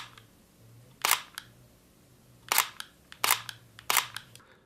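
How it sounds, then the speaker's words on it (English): A Sony A6300 mirrorless camera fires its shutter in single-release mode: four sharp, separate clicks, each with a faint mechanical echo, at irregular intervals over a quiet room hum. "This is how the shutter sounds on single release,"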